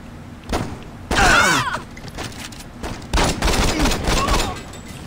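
Bursts of automatic gunfire in the Saints Row video game, loud cracks and rattling volleys coming in several clusters, with speech-like game sounds mixed in among the shots.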